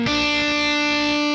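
Overdriven electric guitar playing a rock part, a palm-muted bass note chugging under sustained, slightly muted upper strings, steady and loud with small rhythmic pick accents.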